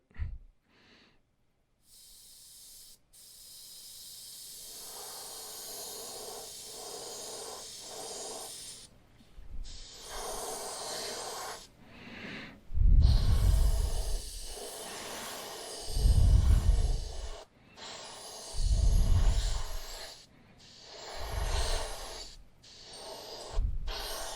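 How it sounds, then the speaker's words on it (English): Airbrush spraying burnt umber paint onto a fishing crankbait: intermittent breathy hissing bursts of a few seconds each, close to the microphone and growing stronger and more regular partway through. "We're going to use this Wicked detailed burnt umber for our brown color. So we've got it in our airbrush and we're ready to go."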